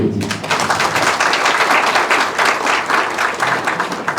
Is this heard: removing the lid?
no